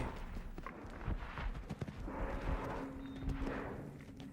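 Horse hooves clip-clopping at a steady pace as the animal approaches a fence in a show-jumping setting, with dull thuds over a broad background and no voices.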